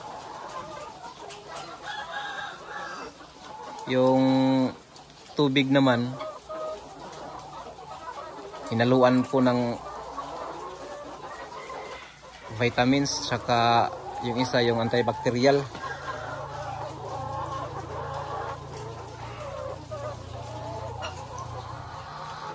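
Dekalb White layer hens cluck and chatter in a group, with bird calls rising in bursts over steady background noise while a person talks in Tagalog throughout.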